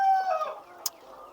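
Layer chickens cluck beneath a chicken coop, a short close burst of hen calls with a brief click partway through.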